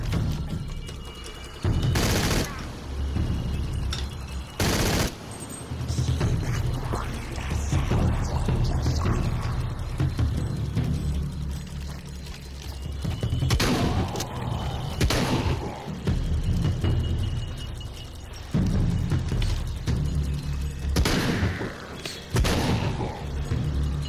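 A shotgun fires at close range in Shadow of the Tomb Raider. Several loud, sharp blasts come at irregular intervals over a rumbling backdrop of combat noise and mechanical clatter.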